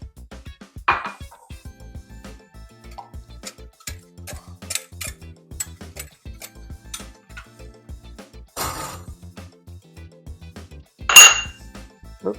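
A spoon scrapes and clinks against a pan while baked beans are combined with bacon and barbecue sauce, with scattered taps and a few louder rattles, no talk.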